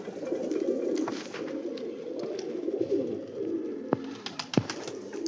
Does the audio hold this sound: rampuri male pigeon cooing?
yes